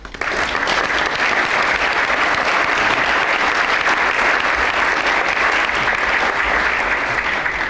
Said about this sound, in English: please, one more applause for them.